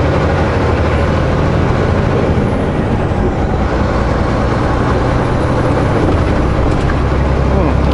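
A continuous low rumble of a heavy train rolling slowly nearby, steady and loud without pause.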